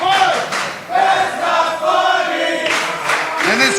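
A wrestling crowd roars in disapproval during an indoor tag team match, a dense wall of shouting and jeering voices swelling in waves, loud and close throughout.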